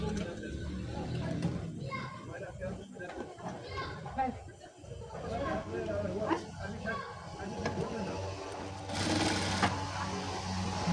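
A sewing machine stitching sleeves onto a garment, running in a steady mechanical whir throughout, close and moderately loud, with someone talking over it and children's voices in the background.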